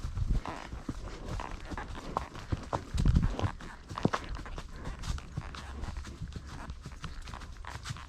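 Horse hooves clip-clopping along outdoors, with a steady run of light hoof strikes close by and a dog nearby.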